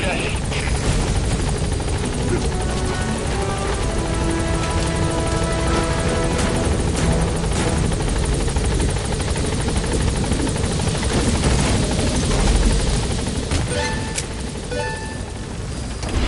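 The Pequod helicopter in Metal Gear Solid V hovering at a landing zone, a loud, continuous rotor roar that eases slightly near the end, with radio voice lines spoken over it.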